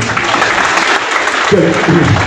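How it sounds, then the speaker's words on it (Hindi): An audience at a training programme in Delhi applauds a participant, with loud, dense clapping throughout and a voice speaking briefly near the end. "जोरदार तालियां हो जाए सर के लिए"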